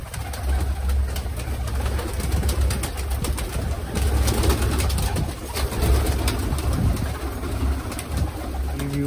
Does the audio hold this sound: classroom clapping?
no